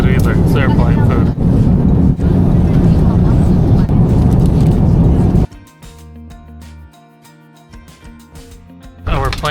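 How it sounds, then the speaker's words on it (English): A passenger plane touching down after a flight: a loud, steady cabin roar for several seconds drops abruptly to a quieter, humming engine whine as the aircraft slows. "Our plane just landed."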